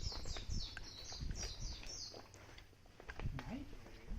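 Birds chirp in repeated quick high notes along a hiking trail up Daimonji in Kyoto, fading after the first couple of seconds, with low thumps and rustling from walking underneath.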